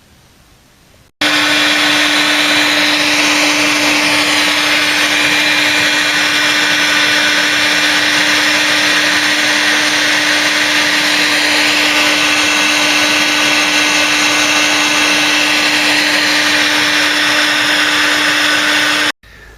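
Heat gun running steadily while shrinking heat shrink tubing on a wiring loom for a Ford Cortina's A4LDE gearbox, a loud constant blowing whir with a fixed tone that starts abruptly and cuts off near the end.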